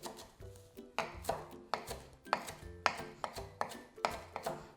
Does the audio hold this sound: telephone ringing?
no